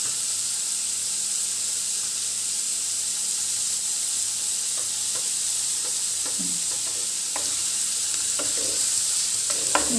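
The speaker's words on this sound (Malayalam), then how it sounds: "നമ്മൾ അരിഞ്ഞു വെച്ചിരിക്കുന്ന സവോള ഒന്ന് ഇളക്കാം." Chopped onion and curry leaves sizzle steadily in hot oil for a brinjal and potato stir-fry, a constant hiss with spoon scrapes and taps joining in during the second half.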